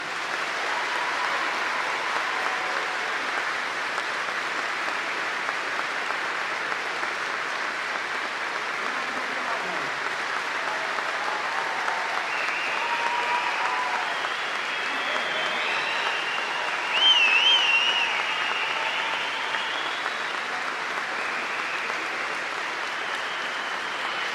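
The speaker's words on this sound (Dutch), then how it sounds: "ik wil vragen om 1 minuut lang zo hard te klappen" A large crowd at a vocational skills championship applauds steadily and loudly for a full minute, a dense continuous wash of clapping with no pauses and only faint scattered voices.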